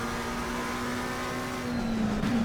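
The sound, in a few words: race car lap at Watkins Glen in ACC video game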